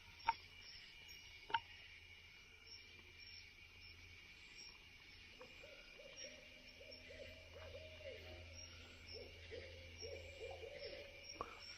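At night an owl gives soft, repeated low hoots at a distance, half buried beneath a constant loud drone of cicadas and insects, with a few faint clicks nearby.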